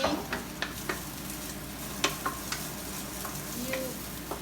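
Garlic, ginger and the white part of the onion fry in oil for chicken lo mein, a soft even sizzle under repeated spatula taps and scrapes against the pan, close and fairly quiet, with no voices.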